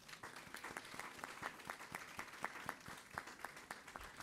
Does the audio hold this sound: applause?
yes